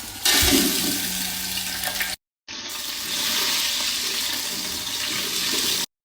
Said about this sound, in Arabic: أول ما تطلع ريحة البهارات أحط الماء